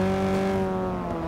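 A Porsche 718 RS 60 racing car in Forza Motorsport lifts off the throttle, its engine holding a steady, strongly tonal drone that eases slightly lower and quieter, close and continuous with no voices.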